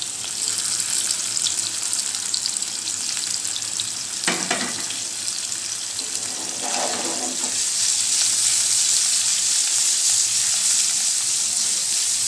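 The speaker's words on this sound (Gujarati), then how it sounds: "તો 5 ચમચી જેટલી હિંગ ઉમેરી અને કારેલાનો વઘાર કરી દઈશું આપણે" Bitter gourd (karela) tipped into hot oil tempered with asafoetida, a loud steady sizzle throughout with brief bursts of clatter and stirring as the vegetable lands in the pan.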